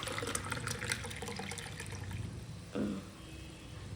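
Cooked mutton soup is poured from a pot into a measuring cup while making mutton biryani, giving a faint, steady trickle of liquid with a brief louder splash toward the end.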